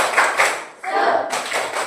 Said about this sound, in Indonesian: Zainuri, 1, 2, 3, tepuk semangat.